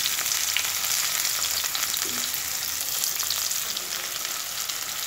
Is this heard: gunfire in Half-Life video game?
no